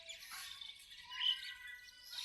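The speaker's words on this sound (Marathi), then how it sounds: "हे पक्षी हे शिंबाळ पिंपरीचा बस स्टँड हे चिवचिवाट" Small birds at the Shembal Pimpri bus stand give a few faint, high chirps and tweets against an otherwise quiet background.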